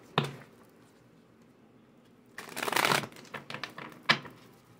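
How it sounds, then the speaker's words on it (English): Playing cards being shuffled by hand, a soft riffling burst in the middle followed by a few sharp card snaps and taps, close and otherwise quiet. "The way I just shuffled them cards."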